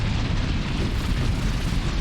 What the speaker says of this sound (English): the frozen caverns echoed to the roar of explosions